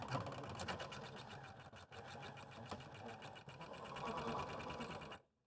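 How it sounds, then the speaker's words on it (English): A sewing machine stitches borders onto a quilt, running steadily and close for about five seconds with a rapid even needle rhythm before stopping abruptly. "Let's go sew."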